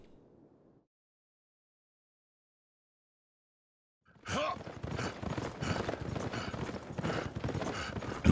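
Horse hooves clip-clop steadily in Wo Long Fallen Dynasty, a dense, even run of thudding beats that starts abruptly after near-silence and carries on close and moderately loud to the end.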